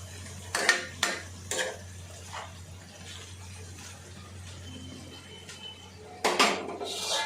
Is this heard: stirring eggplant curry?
yes